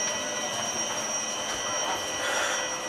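The 13509 Asansol Gonda Express pulls away from Kul Junction with a steady, moderately loud rumble of moving carriages, a thin high whine running through it throughout.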